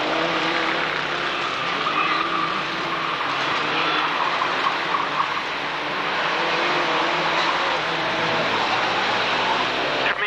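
Racing vans in a 20-lap club race for the Ivan Harrington Shield at a Braintree Auto Club van meeting, engines droning loudly and continuously as the pack passes through back markers.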